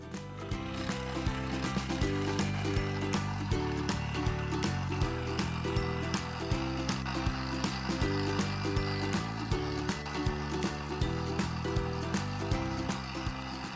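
A Kenwood mixer's pasta roller attachment rolls out dough with a steady, rhythmic mechanical whir and repeating clatter, loud and close, running continuously without speech.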